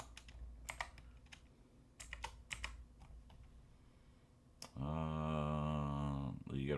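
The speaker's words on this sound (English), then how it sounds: "They be typing too fast." Quick bursts of computer keyboard typing clatter up close in irregular runs while coding, then stop and give way to a loud, sustained voiced hum.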